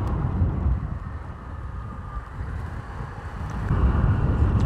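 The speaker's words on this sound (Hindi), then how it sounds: "ठंडी ठंडी हवा चल रही है" Cool wind blows steadily outdoors, a broad, rushing noise buffeting the microphone and swelling slightly toward the end.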